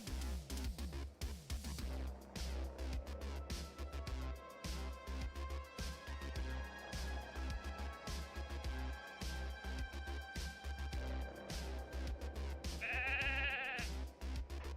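Sheep bleat again and again in a sheep pen in the online game Ultima Online, a steady chorus of overlapping calls over a constant low background hum, with one louder, harsher bleat near the end.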